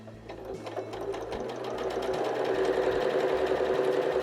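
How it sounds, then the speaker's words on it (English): A sewing machine stitches fabric along a curve, its needle chattering in a fast, steady rhythm that starts slightly softer and settles into an even run at close range. "you're just letting the machine feed it through for you"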